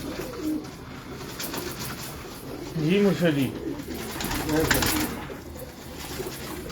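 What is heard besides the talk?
pigeons cooing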